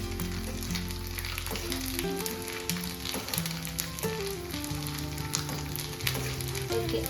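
Unniyappam frying in hot oil in an appam pan, a steady bright sizzle running throughout with melodic background music playing underneath.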